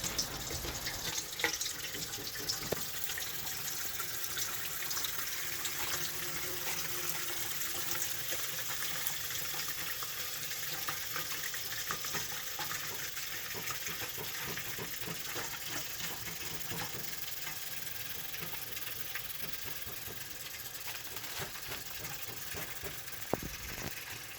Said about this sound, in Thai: หลังจากเขาเก็บใบมอนมาแล้วเขาก็มาล้างน้ำให้มันสะอาด